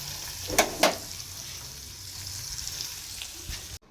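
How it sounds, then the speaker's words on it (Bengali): Onion, tomato and green chilli frying in hot oil for an egg curry, a steady soft sizzle throughout with two sharp utensil clinks near the start and a fainter knock near the end before it cuts off. "কারি জন্য মশ মানে পেঁয়াজ টমেটো কাঁচা লঙ্কা এগুলো সব ভেজে নিচ্ছি"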